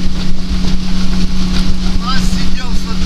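Steady drone of a Kristall Pivden motorboat engine running on open water during a fisheries police raid, with a strong constant hum, wind buffeting and faint voices under the engine.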